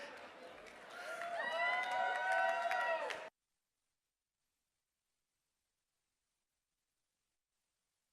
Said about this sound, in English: let's give them first a big round of applause